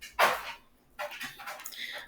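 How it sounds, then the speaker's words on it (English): A pet dog in the background gives a short yelp, then softer whimpering and a faint bark, fairly quiet and with no other voices. "excuse my dog in the background"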